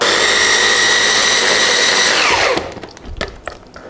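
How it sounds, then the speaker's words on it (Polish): A blender whirs at high speed through cooked spinach, a loud steady close drone that winds down and stops partway, followed by a few light clunks and knocks. "Szpinak gotowy, przełożymy do blendera."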